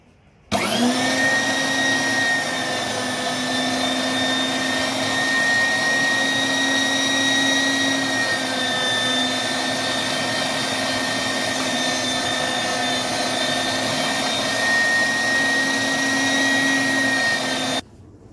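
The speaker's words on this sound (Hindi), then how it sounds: "और हम आज आपको मशीन में मिक्स करके दिखाएंगे कि मशीन में किस तरह का होता है।" Electric mixer machine running steadily while blending a chicken shami kabab mixture, a loud, even whirring motor drone that starts abruptly and holds for many seconds before cutting off, with no voices.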